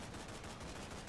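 Rapid, dense gunfire from the video game Call of Duty 3, a continuous rattle of overlapping shots pulsing in quick rhythm, loud and unbroken across the moment.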